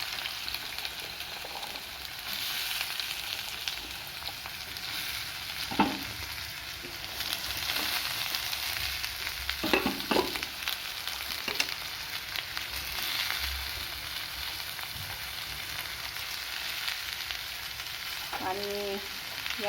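Pumpkin fries in oil with cumin and mustard seeds for a dry vegetable dish, a steady close sizzle with occasional spoon stirs and clinks, no talking.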